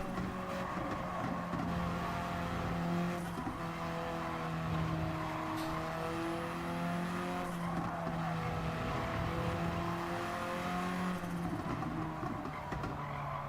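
Tuned race cars in Gran Turismo 7 roar continuously, with several engines revving up and down through gear shifts and occasional brief tire squeals, steady and loud with no talking.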